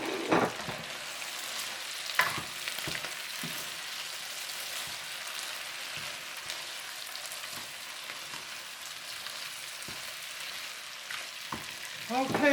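Pork riblets and daikon stir-fry with chopped green onion and cilantro in a hot pan, a soft steady sizzle broken by intermittent scraping stirs, with short bits of talk at the start and end.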